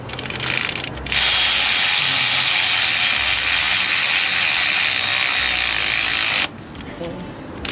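Ratchet tightening hold-down bolts on a 2005 LLY Duramax engine during a head gasket job, a long loud buzzing run of rapid clicks starting after a second and stopping near the end, with talking present.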